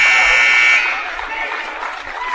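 A loud electronic buzzer ends a period at a high school wrestling match in a gym, one sharp steady tone lasting under a second, followed by crowd noise and shouting.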